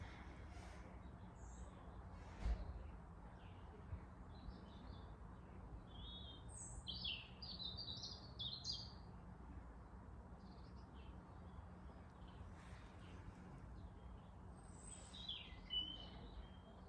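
A magpie calls in short chirping bursts at a middle distance, faint against a quiet outdoor background with a few other scattered bird notes.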